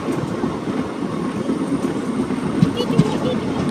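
Passenger train pulling out of Medchal station, a continuous low rumble of moving rail cars with a couple of faint wheel clacks, while people talk nearby over the noise.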